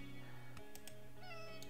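Cats meowing in the video game Animal Shelter Simulator 2: several overlapping tonal meows and mews, some rising and bending in pitch, with a steady hum beneath and short bright ticks scattered through.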